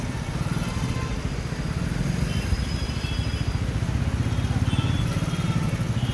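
Busy traffic jam at a road signal near a market, with motorcycle and car engines idling and rumbling close by. The churning engine noise is steady and continuous, and faint voices may sit underneath.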